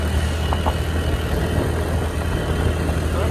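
A steady, low engine rumble idles continuously throughout, a school bus running nearby with a constant droning hum and no voices.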